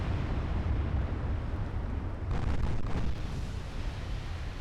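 Big naval guns fire and shells strike in an Ultimate Admiral Dreadnoughts battle with a Maine gunline, a continuous heavy rumble of booms with a louder burst partway through.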